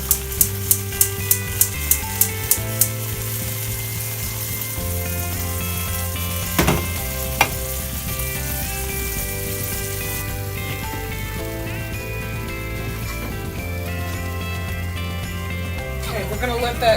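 Chicken pieces for chicken parmesan sizzle in a pan of sauce with a steady hiss, under a person talking; a run of quick clicks comes at the start.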